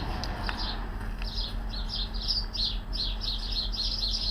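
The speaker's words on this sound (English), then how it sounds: "Well, the birds are fighting." Several birds chirp and squabble in rapid bursts of high tweets outdoors in a garden beside a deserted warehouse, steady and moderately near over low background hum.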